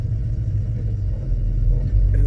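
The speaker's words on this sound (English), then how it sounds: "Here we are, Chevy C10 LS swapped." An LS-swapped Chevy C10 truck idles with a loud, steady low rumble close by, unbroken for the whole stretch, with a faint higher sound creeping in right at the end.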